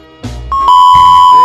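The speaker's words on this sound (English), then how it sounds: "you gotta stop beeping me right now" A loud, steady censor beep tone cuts over a man's speech, running for most of the moment after a brief spoken fragment.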